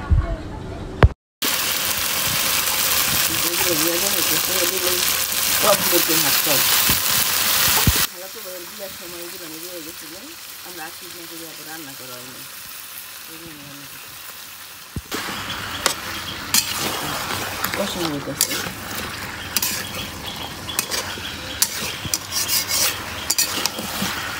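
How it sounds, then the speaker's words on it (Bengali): A grinder churns soaked rice into batter for dosa or chitoi pitha, its loud motor droning and rasping steadily and shifting in tone partway through, with voices talking nearby. "চলকা পিঠা বা দোসা বানানোর জন্য বাটা হইতেছে, চাল ভিজানো হয়েছিল"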